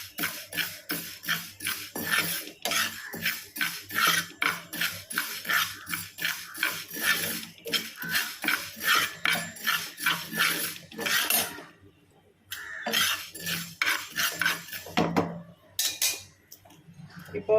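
Fenugreek and other spices for homemade chili powder are dry-roasted in a pan, with a spoon scraping and clinking against the metal in quick, steady strokes. A brief pause comes partway through, then the stirring resumes; no voices.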